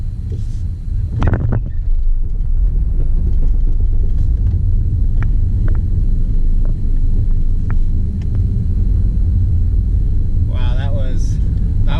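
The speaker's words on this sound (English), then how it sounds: "Second gear pop start." A 4th-generation Chevrolet Camaro with the 3800 V6 and five-speed manual is pop-started in second gear, its loud steady engine and road rumble filling the whole stretch with wind buffeting, while a voice speaks briefly near the end.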